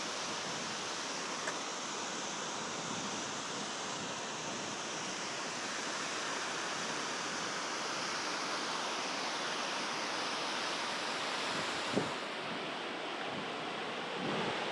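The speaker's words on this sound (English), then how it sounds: "you can see the water chute coming down from the side channel spillway" Water rushes steadily down a reservoir side channel spillway chute near Pendle Hill, a dense continuous roar of broadband noise, loud and unbroken throughout.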